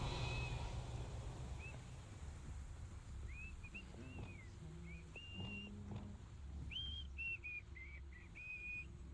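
Whistling inside the video game Hogwarts Legacy: a string of short, bright melodic whistle notes rising and falling, spaced irregularly over a steady low background hum, fairly close and clear.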